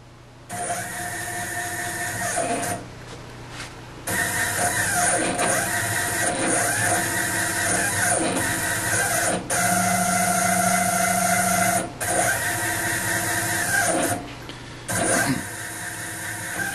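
A CNC-converted PM-25MV milling machine traversing its Y axis, a steady mechanical motor whine with tonal hum that runs in long stretches, stopping briefly between moves, close and moderately loud.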